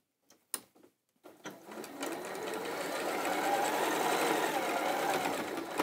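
After a few soft clicks and handling noises, a domestic sewing machine starts and stitches quilt pieces, its even whirring rising slightly and holding steady, fairly quiet and close.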